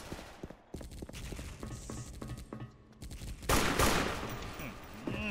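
AK rifle gunfire in a shooter video game: rapid bursts of shots at moderate distance, spread through the stretch, with a louder, harsher barrage near the end.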